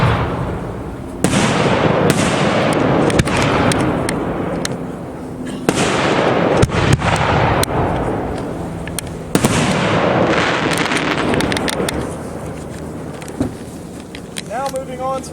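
3-inch 1.3 firework shells from a Dominator Prestige A2 assortment go off outdoors at night in a loud series of deep booms and bursts, each trailing into crackle and rumbling echo.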